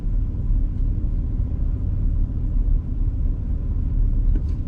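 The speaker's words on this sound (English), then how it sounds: "If you're quiet, you could probably hear the engine rumble right now." A steady low C6 Corvette engine rumble drones on without a break, loud and close, with no voices over it.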